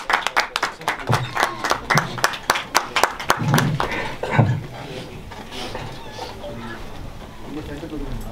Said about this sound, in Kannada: ಎಲ್ಲರೂ ಚಪ್ಪಾಳೆಯೊಂದಿಗೆ ಸ್ವಾಗತಿಸಿ.